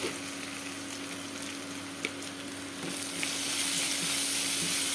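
Chopped onion with garam masala powder frying in a pan, a continuous moderate sizzle that swells louder toward the end with faint stirring, no talk.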